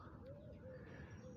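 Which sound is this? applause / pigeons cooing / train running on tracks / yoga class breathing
pigeons cooing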